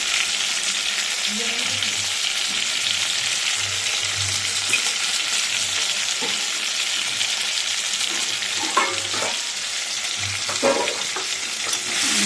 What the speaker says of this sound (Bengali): এলাচ দিয়ে দিলাম, আলুর সাথে ভাজা ভাজা হয়ে যাবে